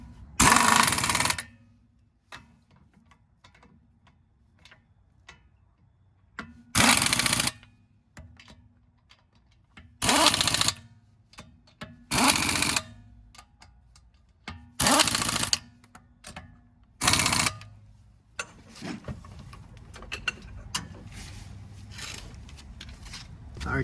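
Torque wrench set to about 85 clicking as wheel lug nuts on a 2013 Mazda 3 are tightened in a star pattern, giving several loud, sharp, evenly spaced bursts with quieter handling noise between them and busier rustling toward the end.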